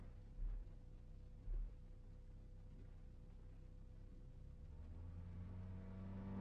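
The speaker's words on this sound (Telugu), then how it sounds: "చిట్టుబాబు, కారు వచ్చేస్తుంది." A car drawing closer in a film scene, a low engine rumble that slowly grows louder toward the end, with two brief low thumps near the start and no speech.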